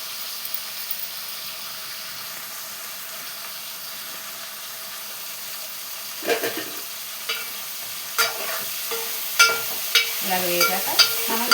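Salted fish frying in a pan, a soft steady hiss of oil that turns livelier in the second half, with a few spatula scrapes and taps close by.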